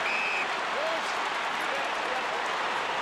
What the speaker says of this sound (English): The crowd roar.